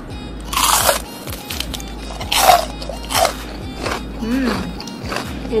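Crunchy bites into air-fried beef tapa seasoned with lemon, several crisp bursts at close range, each followed by quieter chewing, with no talk.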